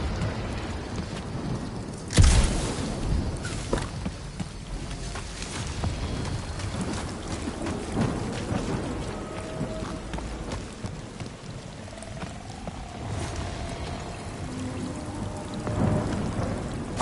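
Steady rain pours in the video game Guardians of the Galaxy, with a sudden thunder crack early on and low rumbles during the downpour.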